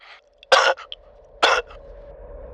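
Two sharp, harsh coughs from a character in the video game DayZ, about a second apart, close and loud, with a faint steady hum and a few small vocal sounds in between.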